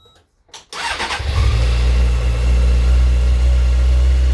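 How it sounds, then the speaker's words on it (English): After a brief quiet moment, a motorcycle with a standard exhaust cranks and fires up, then settles into a loud, deep, throaty, steady idle nearby. "So let's start the bike up."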